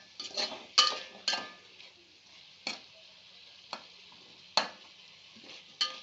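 Onions, tomatoes and green chillies frying in oil for beans pulao, with a soft steady sizzle broken by several sharp, spaced stirring clacks of a utensil against the pan.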